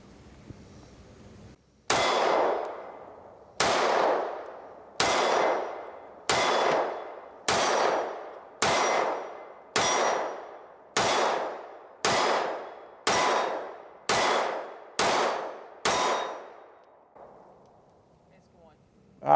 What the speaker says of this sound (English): so I'm going to shoot this one first, see how that goes